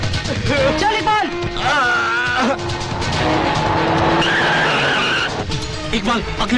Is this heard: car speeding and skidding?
yes